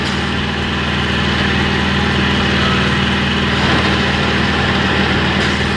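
Tractor engine in a date palm orchard during a Sayer date harvest in Israel, running steadily and loud with a deep rumbling drone and constant low harmonics throughout, no speech.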